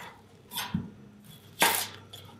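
A kitchen knife slicing the ends off an onion on a cutting board while making chicken curry, two separate crisp cuts, each a short crunchy chop with a light knock on the board, close and fairly quiet.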